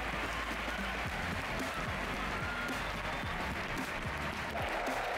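A packed indoor crowd at the Swiss Indoors tennis tournament in Basel applauds home player Stan Wawrinka. The clapping is continuous and even, a dense rustle heard from within the stands at a moderate, distant-sounding level.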